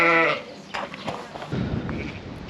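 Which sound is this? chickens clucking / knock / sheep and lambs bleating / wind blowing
sheep and lambs bleating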